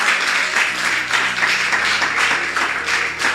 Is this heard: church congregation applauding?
yes